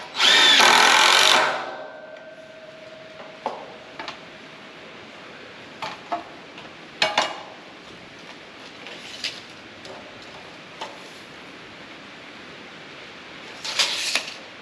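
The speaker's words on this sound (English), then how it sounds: "I'm choosing to screw all this together in case I want to ever take it apart" A power drill whirs in a loud burst of about a second as screws drive into wooden shelving. Scattered clicks and knocks of handling follow, then a second brief drill burst near the end.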